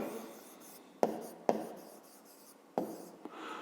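A pen or pencil writes out a math expression on paper in a quiet room, with soft continuous scratching and a few sharper taps as strokes land; no one speaks.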